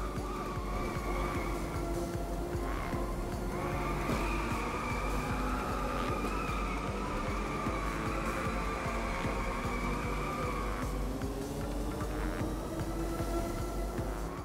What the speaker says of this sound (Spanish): El sonido del túnel es buenísimo,